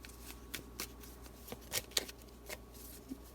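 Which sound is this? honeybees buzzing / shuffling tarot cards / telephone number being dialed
shuffling tarot cards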